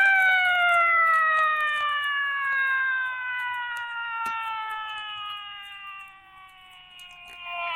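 A siren wails in a steady, slowly falling tone, loud and close, continuing for several seconds with no voices.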